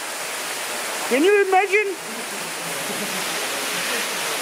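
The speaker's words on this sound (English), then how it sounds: "I did not see this waterfall before" A waterfall in the Caucasus roars as a steady, broadband wash of falling water for the full length, with a brief spoken exclamation rising above it near the middle.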